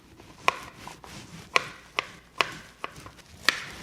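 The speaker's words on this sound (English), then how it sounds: "I'm slicing up the last mushroom." A knife slices mushrooms on a cutting board for a teriyaki beef bowl, giving six sharp, close cuts at an uneven pace against a quiet kitchen background with no talking.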